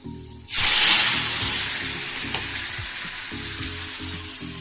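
Boiled lentils poured into hot oil with garlic tempering, an abrupt loud burst of sizzling that peaks right away and then settles into a steady hiss, with soft stirring and music underneath.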